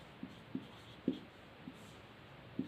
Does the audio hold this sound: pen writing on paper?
yes